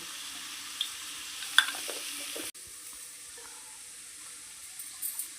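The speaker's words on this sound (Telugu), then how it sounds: "ఇది బాగా వేగాలండి" Onion and brinjal pieces frying in a pan for curry give a quiet, steady sizzle, with a few sharp stirring clinks and scrapes before the sound dips and settles lower.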